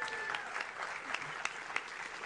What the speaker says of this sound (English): Big round of applause for Liz.